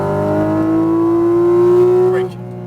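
Porsche 718 Cayman GT4 RS flat-six engine on a Las Vegas race track, a loud steady climbing drone under light throttle heard from inside the cabin, rising in pitch before easing off abruptly near the end.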